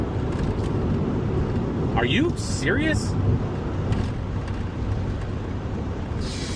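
A 2003 Honda Insight first-generation hatchback is driven along a road, its engine and road noise a steady low rumble while someone talks briefly over it.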